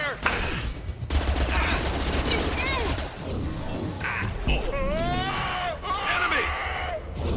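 Sci-fi gunfire from a Mass Effect 2 battle crackles in dense bursts over game music and electronic effects, with rising synthetic whines in the second half and voices speaking intermittently.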